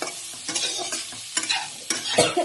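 Ginger fries in a pan for a vegetarian soybean dish, a close sizzle broken by several sharp bursts of stirring and scraping in uneven rhythm.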